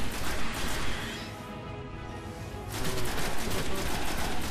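Automatic weapon fire in the video game Destiny, bursts of rapid shots at the start and again after a short lull, moderately loud with game noise in between.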